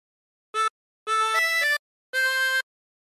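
A 16-hole tremolo harmonica plays a short phrase: a brief note, then a longer run of changing tones, and a final held note, clear and close with silence between.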